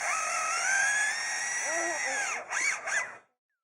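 A lyrebird mimics construction-site power tools, giving a loud whining drill-like tone that holds steady, then breaks into a few short revving bursts before stopping abruptly.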